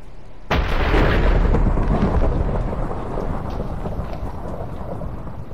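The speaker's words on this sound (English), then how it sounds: "That's some perfect time lightning, by the way." Minecraft thunder breaks suddenly with a loud close crack, then rolls into a long heavy rumble over rain and slowly fades, heard alone without talk.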